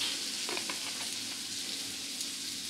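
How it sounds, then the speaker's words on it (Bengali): Chopped onions fry lightly in a pan for a Purba Medinipur-style sour small-fish dish, giving a steady, close hiss of sizzling oil with a few soft stirring clicks and no talking. "পেঁয়াজ কুচিটাকে হালকা করে ভেজে নিতে হবে প্রথমে"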